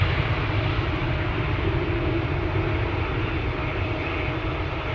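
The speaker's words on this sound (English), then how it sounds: "737 followed by an Embraer 175" Boeing 737 and Embraer 175 departing Amsterdam Schiphol, heard as a steady, loud jet engine roar with deep rumble, continuous throughout and without talk.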